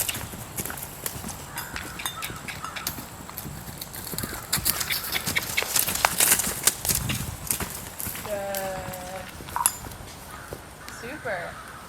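A horse cantering in a riding session, its hooves clip-clopping in a quick rhythmic beat at moderate distance, with a person talking and crows cawing in the background.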